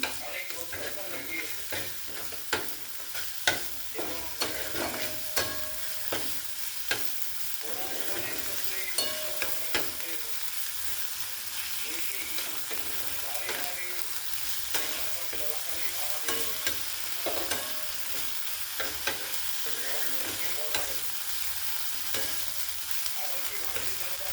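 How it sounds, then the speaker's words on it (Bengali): Tomatoes sizzle steadily in a hot pan with salt while a utensil repeatedly scrapes and stirs, the clatter coming in frequent irregular bursts. "আর এই টমেটো দিয়ে দিলাম একসাথে। একটু লবণ দিয়ে কষে নিচ্ছি।"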